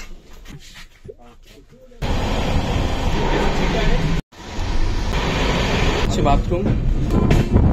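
Rumbling train noise aboard the Sealdah Humsafar Express, with the engine behind, runs loud and steady with a brief dropout; a person talks early and over parts of the clip.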